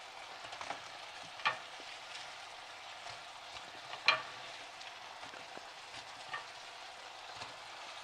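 Paneer pieces fry and get stirred in chilli sauce, a soft steady sizzle broken by a few louder clinks of the spoon against the pan.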